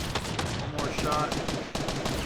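Gunfire from a pistol in the video game Fortnite, a run of sharp rapid shots close up, with game effects in the background.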